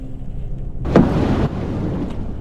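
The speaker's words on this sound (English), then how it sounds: "The third firework was launched after." A distress firework launched from the Titanic in the video game Roblox, a single sudden whooshing boom over a low rumbling background, loud and brief, with no voices.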